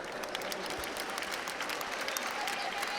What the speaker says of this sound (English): a round of applause in the end